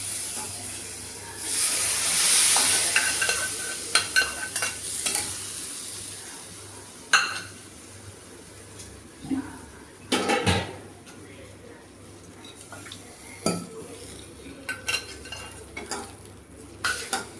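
Cooked moong dal being stirred in a pan, soft sizzling and hissing at first, then scattered scraping and clinking of the spoon against the pan, moderately quiet with short bursts.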